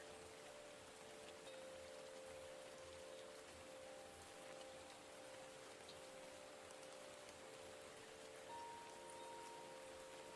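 A rain shower ambience in a Pokémon-themed setting, a soft, steady hiss of falling rain with faint tonal hums underneath, even and unbroken throughout.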